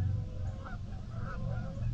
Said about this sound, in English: We got more geese, yeah, too.